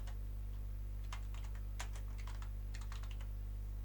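Computer keyboard typing while retyping a button label in a game editor: several quick bursts of light key clicks, faint and close, over a steady low electrical hum, with no talk.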